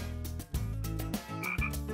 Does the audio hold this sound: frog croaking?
yes